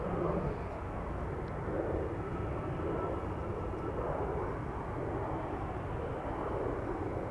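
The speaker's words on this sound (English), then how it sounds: "another BizJet just now took off over here. From runway 22." A business jet takes off from runway 22 at Amsterdam Schiphol Airport, giving a steady, loud broadband engine roar that holds evenly throughout with no voices.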